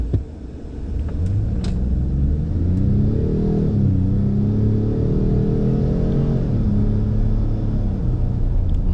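A 2021 Ford F-150 PowerBoost pickup accelerates hard, its loud engine drone climbing steadily in pitch with brief drops at gear changes, a continuous close rumble with no talk.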